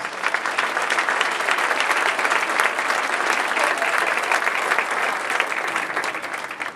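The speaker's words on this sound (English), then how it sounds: "let's give them a round of applause" Audience applause for a sixth grade school chorus, a steady, dense wash of clapping from many hands that holds at full strength for about seven seconds, with no voices standing out.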